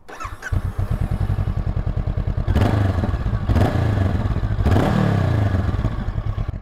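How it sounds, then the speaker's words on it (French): A 2024 Honda CB500 Hornet motorcycle engine cranks and fires up, settling into a loud, throbbing idle with three sharp revs of the exhaust, close to the microphone. "on va redémarrer la moto simplement pour vous faire écouter le petit échappement qui est juste là"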